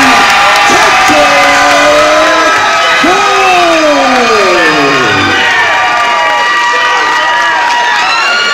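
A fight crowd cheers, whoops and applauds loudly after a split-decision win at an amateur bout, with shouting rising and falling continuously throughout.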